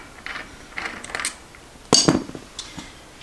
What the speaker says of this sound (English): Now we can just hand turn it. Now it's very loose, it's ready to come off.